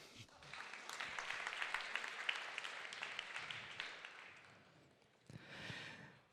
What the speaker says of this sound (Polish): wszyscy zapewne jesteśmy za rozwojem regionalnym, więc gorące brawa.